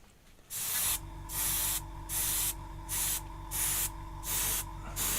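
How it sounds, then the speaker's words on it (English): An aerosol snow spray can hisses in a series of short, regular bursts, about six sprays with brief pauses between, loud and close, sprayed at an angle toward a model. "I'm spraying at an angle towards the model"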